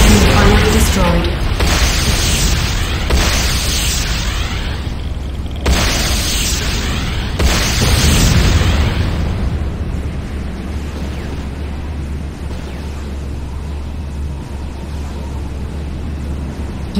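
A GDI Tiberium building blowing up in the game Renegade: a series of loud, roaring blasts in quick succession, each swelling and crashing, then a long rumbling fade into low noise.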